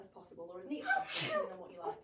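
One sharp sneeze bursts out midway through steady conversational talk, close and moderately loud, with speech continuing on either side of it.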